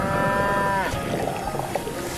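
A cartoon cow moos loudly, a long drawn-out call that rises and then breaks off, with rough noisy sound carrying on after it.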